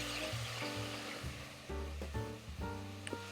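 Meat frying in a pan for a classic tomato sauce, a soft sizzle and crackle with intermittent tonal rattles and clatter, fairly quiet and close, without talk.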